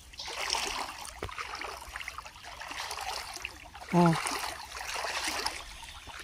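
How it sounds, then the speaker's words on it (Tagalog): Water runs in a stream in Saudi Arabia, a steady trickling and splashing flow heard close by, with a brief voice exclaiming partway through. "may maagos pala yung tubig dito"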